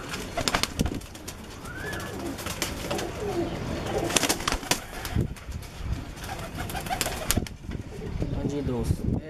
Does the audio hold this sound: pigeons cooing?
yes